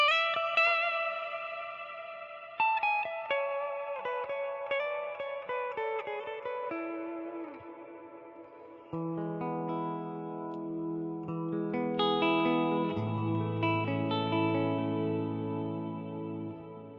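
Clean electric guitar notes ring out through a Fractal AX8 deep space reverb, each pluck trailing long echoing tails that blend into a spacious ambient haze.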